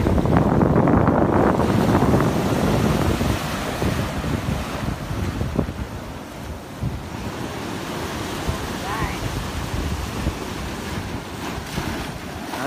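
Sea waves washing against a rocky coast in Quảng Ngãi with strong wind buffeting the microphone, loud rushing surf at the start that eases into a steady churning roar.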